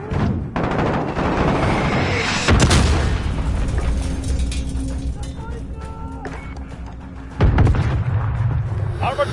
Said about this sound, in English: got mortars incoming!